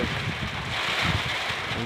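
Loud, steady wind roars and buffets the microphone, with a constant hiss of rain underneath throughout.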